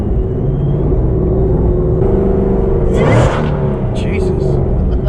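Supercharged 800 rwhp Ford Mustang S550 engine rumbling steadily with blower whine, a brief louder surge midway, under speech heard from inside the car.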